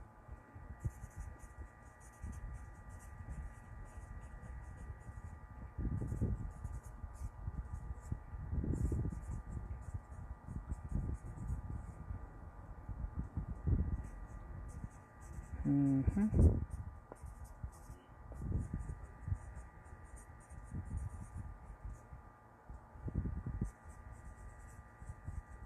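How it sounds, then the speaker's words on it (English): A pen scratches across paper in soft, irregular strokes, close and quiet, over a steady low electrical hum with occasional dull thumps. "I'm just writing down."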